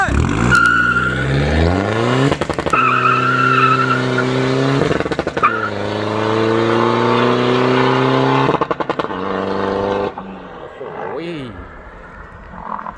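A remapped Chevrolet car accelerates hard on a track, engine revving up through each gear with sharp, loud cuts between shifts, the pitch climbing repeatedly before fading as the car pulls away; a voice talks over it.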